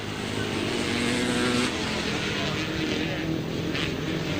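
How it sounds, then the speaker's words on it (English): A 250cc Honda Super Dream Twin grasstrack motorcycle racing with other bikes, a steady loud engine drone with shifting tones, continuous throughout. "Notice the difference in the exhaust note of that machine at the back there, that 250cc Honda Super Dream Twin."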